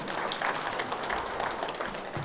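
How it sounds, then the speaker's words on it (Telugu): Audience applause at an outdoor vegetarian compassion rally in Vinukonda, a dense steady patter of many hands clapping throughout, fairly distant and even in level. "చప్పట్లు కొడదాం"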